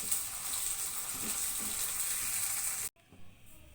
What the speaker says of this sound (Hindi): अच्छा, देखिए प्याज सॉफ्ट हो गई है, अब इसमें हम ये टमाटर डाल देंगे, इसको भी इसी तरीके से सॉफ्ट करेंगे